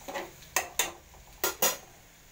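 A spoon scrapes and knocks against a thick-bottomed pot while curry is stirred, giving five sharp metallic clinks in uneven rhythm over a quiet background.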